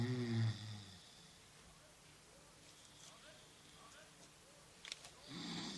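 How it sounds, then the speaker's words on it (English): A man snoring in a low, rumbling rasp, loudest at the start and rising again near the end, with a quiet, hushed stretch in between and faint voices nearby. "You're snoring."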